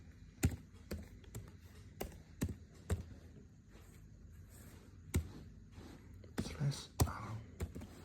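Irregular, close keyboard clicks and taps from someone typing the ipconfig command on a computer keyboard, with quiet speech murmuring in between the keystrokes.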